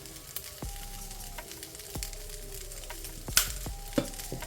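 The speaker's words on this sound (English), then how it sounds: "I'm gonna leave this on the flame for a little bit just so that everything warms up" Saltfish sizzles and fries steadily in a pan over a gas flame, with a continuous crackling hiss and a few sharper pops and clinks of a utensil now and then.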